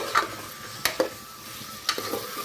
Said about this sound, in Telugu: చక్కగా నూనెలో మగ్గుతుంటాము.